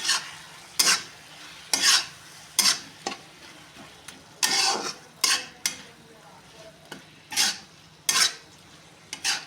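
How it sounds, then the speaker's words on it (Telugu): Potato and cauliflower curry seasoned with chicken masala and chili powder is stirred in a pan, with a steady run of loud, rhythmic scraping strokes roughly every second over a soft background sizzle; nobody speaks. "కొంచెం చికెన్ మసాలా, కొంచెం కారం. బాగా కలుపుకోవాలి."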